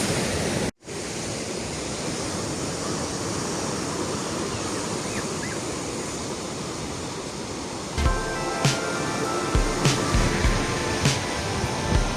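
Black Sea waves wash steadily onto a beach at Chornomorsk in September in a constant broad roar, with light tapping and rustling noises near the end.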